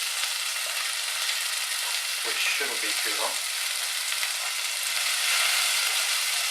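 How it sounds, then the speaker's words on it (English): Chopped onion sizzling steadily in a hot pan while frying for corn chowder, a continuous bright crackle with a brief stir partway through and a short spoken phrase over it. "That's sizzling away,"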